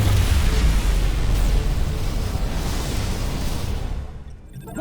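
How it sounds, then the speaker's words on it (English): A dilithium crystal explodes in Star Trek: Resurgence, a loud, heavy rumbling blast that fills the space and slowly decays over several seconds before cutting off. "Whoa! Dilithium explosion!"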